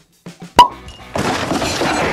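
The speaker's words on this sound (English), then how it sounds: "This is the best bit about opening a new bottle, when you get the pop of that cork" The cork of a new bottle of Old Forester Statesman bourbon whisky comes out with a single sharp close pop, after a couple of faint creaks, then a hissy rustle of handling follows.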